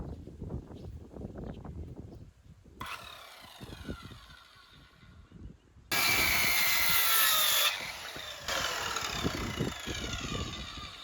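A Dnipro-M B500 mitre saw cuts through wood, its loud motor whine rising as the blade bites, with sustained rasping cuts and a brief spin-down between passes, close up with no talking.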